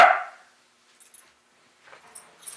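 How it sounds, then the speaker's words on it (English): A dog gives one short, sharp frustrated bark at close range, followed by quiet gaps and faint scuffling sounds. "And he barks out of frustration."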